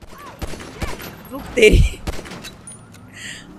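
Gunfire in GTA V aimed at cars, a few sharp shots and a heavier thump in the middle, mixed with game noise while someone talks excitedly over it.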